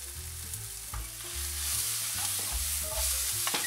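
Mushrooms cooking in butter with a pinch of salt in a frying pan over medium heat, a steady bright sizzle under a low continuous hum and tonal background, with occasional stirring clinks.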